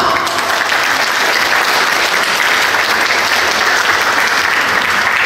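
Loud, sustained applause from an audience at a cruise itinerary launch event in Kaohsiung, thick continuous clapping at a steady level throughout.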